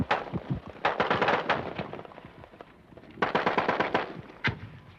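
Gunfire in a firefight on a bridge during the 1975 fall of Saigon comes in dense bursts of rapid automatic shots, two clusters split by a brief lull, loud and close with sharp cracks and no speech.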